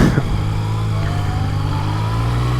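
A Yamaha XSR900 motorcycle pulls away and accelerates, its engine a loud, steady drone heard close up, with the pitch climbing gradually as it gathers speed.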